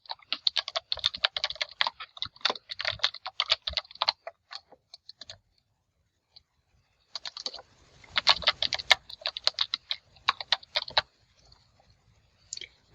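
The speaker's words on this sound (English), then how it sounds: "you're going to type in your SANY email address and password" Rapid keystrokes on a computer keyboard as an email address and password are entered into a Google Classroom login, two bursts of steady clicking separated by a short pause, close and clear with no talking.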